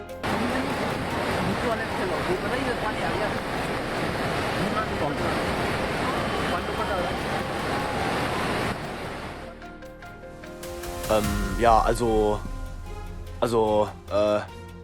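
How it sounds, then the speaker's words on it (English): Floodwaters rush through Uttarakhand, sweeping away rocks, soil and homes in a loud, dense roar for about nine seconds. It then drops to a quieter rumble while voices cut in over the top. "Massive floods sweep through Uttarakhand, carrying away rocks, soil, and homes."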